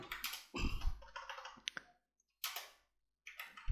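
Fingers type on a computer keyboard in quick bursts of close, crisp key clicks, broken by brief pauses.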